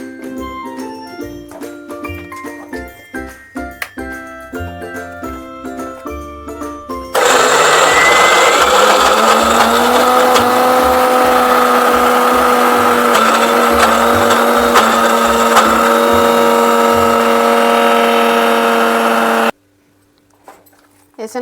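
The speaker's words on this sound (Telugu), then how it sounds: "మిక్సీకి వేసుకుందాం" A mixer grinder grinds soaked black-eyed peas without water, a loud steady whirring motor that runs for about twelve seconds before cutting off abruptly, after music and talk at the start.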